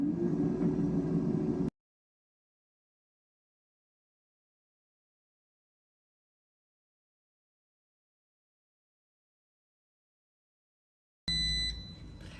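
An air fryer beeps as its cooking cycle finishes, a few short bright electronic tones heard after a long silence, preceded by a brief burst of fan hum.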